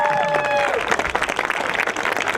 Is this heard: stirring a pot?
no